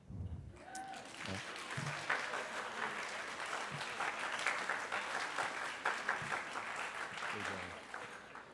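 Sustained audience applause at a school spring band concert, a steady wash of many hands clapping that fills the room for several seconds at moderate distance.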